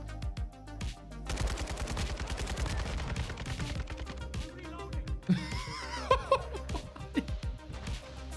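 Rapid bursts of automatic fire from a 7.62 rifle in Call of Duty, loud and close, running steadily for several seconds and then breaking into scattered shots with brief voice-like sounds.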